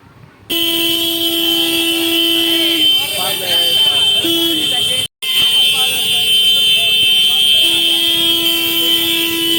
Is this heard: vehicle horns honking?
yes